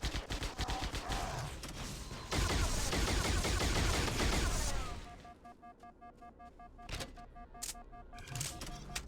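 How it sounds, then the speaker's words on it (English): Rapid bursts of incineration cannon fire from the video game Halo SPV3 crackle in a dense volley, then thin into sparse pops alongside beeping game tones. "Incineration cannon not really incinerating."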